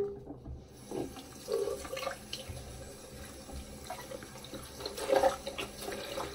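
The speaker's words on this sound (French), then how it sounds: "je vais mouiller mon visage" Tap water running into a sink while a face is wetted, a steady close rush with splashes and small surges and a brief squeak.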